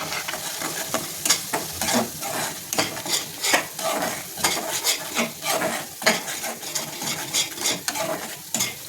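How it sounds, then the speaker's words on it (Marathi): Goda masala, red chilli masala and coriander powder frying in a pan while being stirred steadily, giving a continuous close sizzle with rhythmic scraping strokes of a spoon against the pan and no talking. "गोडा मसाला तिखट मसाला आणि धणे पावडर हे मी त्याच्यामध्ये टाकून परतून घेते"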